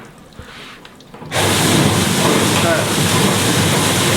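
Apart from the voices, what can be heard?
water from a tap spraying out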